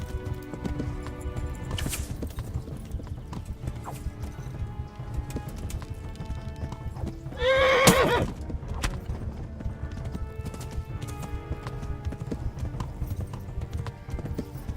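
Steady clip-clop of galloping horse hooves in the medieval game Kingdom Come: Deliverance, with a single loud whinny rising midway, the hoofbeats rhythmic and continuous throughout.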